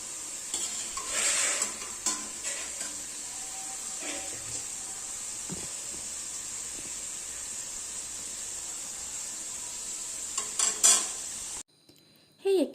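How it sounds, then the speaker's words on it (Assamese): Chopped onions go into hot oil already used for par-boiling potatoes, for an Assamese-style duck curry, giving a steady close sizzle with stirring scrapes and a few clinks of utensil on pan. "সেই একেখিনি তেলতে এতিয়া মই দি লৈছোঁ কাটি থোৱা পিঁয়াজখিনি"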